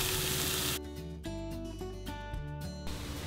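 Onion and grated carrots frying in a pan for stuffed cabbage rolls, heard as a soft steady sizzle under tonal background music, faint and close.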